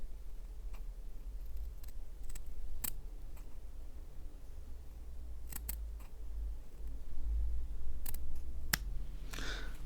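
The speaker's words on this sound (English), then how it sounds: "Maybe I'll just give this a little trim." Scissors trim cotton wick for a rebuildable vape mesh coil in a few sharp, isolated snips spread over a quiet room with a low hum, followed by a brief rustle near the end.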